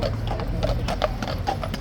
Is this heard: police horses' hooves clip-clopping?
yes